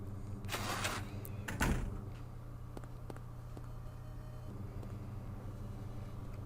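A door opening in the Silent Hill 1 video game, a brief heavy creak and clunk near the start over a low steady hum, followed by a few faint clicks.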